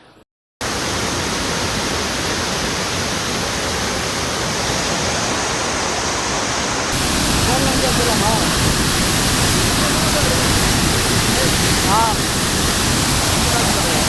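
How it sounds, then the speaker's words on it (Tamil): Heavy water pouring down Kumbarutti falls, a steady loud broadband roar that stays constant throughout and thickens slightly midway, with no speech above it. "இங்கே ஓவராக தண்ணி வருது."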